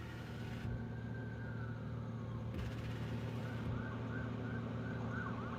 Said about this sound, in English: Oh, ambulance